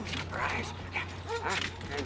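A dog in the Mad Max video game whimpering and yipping in short, high, wavering cries over a steady low game hum, with a voice talking alongside.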